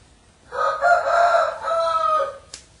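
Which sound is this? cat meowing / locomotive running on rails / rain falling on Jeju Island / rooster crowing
rooster crowing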